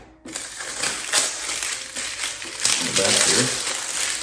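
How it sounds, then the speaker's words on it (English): Plastic wrapping is pulled off a HOTEKME Starry Night laser star projector, giving a close, continuous crinkling and crumpling with some rustling bursts, while a voice talks over it. "Take off the plastic."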